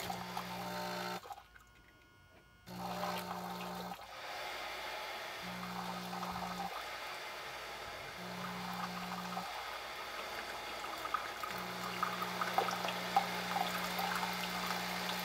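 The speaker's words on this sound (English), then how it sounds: "See, there's water coming down that pipe. It'll kick in and run soon." Water runs through a pipe inside a Bunn My Cafe coffee maker as its small air purge pump cycles on and off, a steady low hum that starts and stops in regular bursts over a continuous faint trickling wash.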